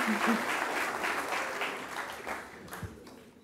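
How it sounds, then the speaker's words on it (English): Lecture audience applauding at a memorial lecture on cricket, a dense wash of clapping that stays steady before gradually thinning out toward the end. "Let's give him another round of applause."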